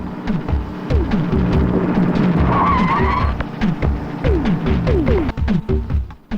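A car speeds along in a movie chase scene, its engine roaring loudly while tires screech and skid again and again in short, sharp squeals.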